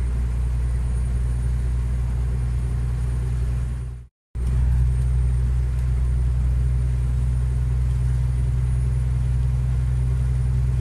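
A car climbs the İzmit ramp with a steady low engine drone and road rumble, loud and close, broken by a brief dropout of near silence partway through.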